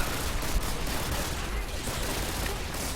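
Dense gunfire from the Call of Duty Modern Warfare 2 game, a rapid crackling barrage of many overlapping shots that fills the whole moment at a steady level, with faint voices mixed in.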